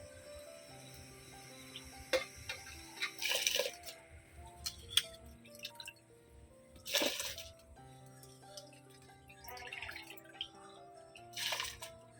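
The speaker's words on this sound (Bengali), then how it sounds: "জল ফুটে গেছে এবারে আমি চাল ছেড়ে দেবো" Rice goes into boiling water for a masoor dal khichuri, heard as a few short, splashy rushes between quiet bubbling, dripping and small clinks close by.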